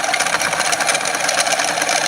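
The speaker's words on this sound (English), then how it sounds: "the rotating magnetic field makes the magnet spin clockwise" A small magnet spins above a set of three-phase powered UVW wire coils, giving a loud steady mechanical whir with a fast repeating pulse, heard alone.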